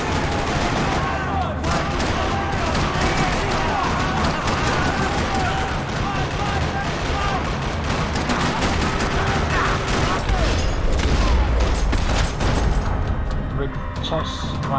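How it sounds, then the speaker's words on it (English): Dense, continuous gunfire rattles through a parking lot in Max Payne 3, with overlapping bursts, rapid automatic fire and occasional heavy booms sustained at a loud level from start to finish. "Another parking lot rattling with gunfire."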